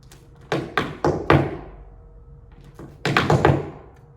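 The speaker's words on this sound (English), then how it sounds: "How many sounds are in a cramp roll?" Tap dance cramp rolls on a hard floor: two quick runs of sharp percussive taps, the first of four distinct hits and the second a faster, tighter cluster, close and alone.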